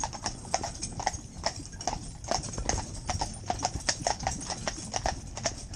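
A Friesian horse trotting, its hooves striking in a brisk, regular two-beat clip-clop that is close and clear and keeps going steadily throughout, with no voices.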